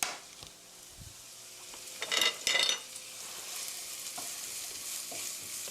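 Sliced Welsh green onions stir-frying in oil in a pan, a steady close sizzle with a couple of louder bursts of crackling and clatter as the onions are tossed and stirred.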